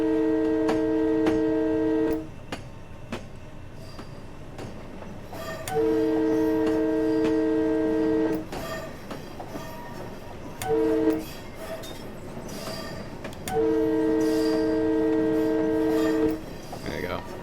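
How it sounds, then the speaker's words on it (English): M2 train horn blasts at a level crossing in Train Simulator 2020: two long chords, one short toot, then another long chord, over a steady rumble of the moving train. "Proper horn sequence."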